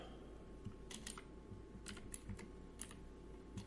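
Keystrokes on a computer keyboard typing a short word, a few crisp clicks in small bursts with gaps, close and alone over a faint steady hum.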